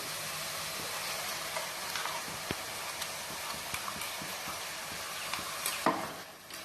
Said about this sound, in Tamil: இதை நல்லா ஒரு 5 நிமிஷம் கிளறி விட்டுட்டே இருங்க.